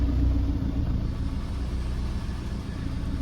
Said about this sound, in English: Yeah, let's get this car running.